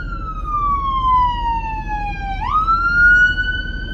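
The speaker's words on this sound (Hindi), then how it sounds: "एम्बुलेंस का सायरन और ये जो पुलिस का सायरन" An ambulance siren in Ireland wails loudly and close, its tone sliding down then sweeping back up in a continuous electronic cry.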